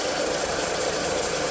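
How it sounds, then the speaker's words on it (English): An Audi/VW car engine idles steadily after about five minutes of warm-up, a constant broadband hum with a faint ticking texture and no variation, heard alone during a power steering fluid flush. "So we had the car running for about 5 minutes."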